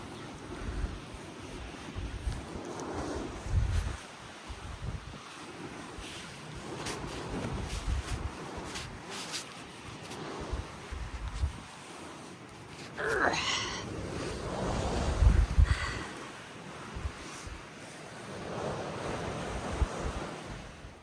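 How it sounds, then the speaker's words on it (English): Strong gusting wind on the Pacific Crest Trail roars and buffets the microphone continuously for the whole stretch, rising and falling in loud surges with no voices. "It's windy"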